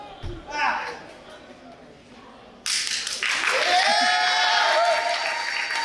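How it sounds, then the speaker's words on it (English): A wrestling crowd gives a sparse, polite golf clap, scattered hand claps under an excited commentator calling the match, then the arena noise swells louder with cheering and chatter. "The golf clap returned"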